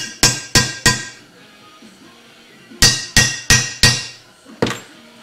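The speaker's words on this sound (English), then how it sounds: "hopefully the chisel will break it" A hammer strikes a chisel to cut through a seal during a C4 torque converter swap on a 1969 Ford Torino: sharp metallic blows in bursts of three, then four, then one, close and loud with ringing decay.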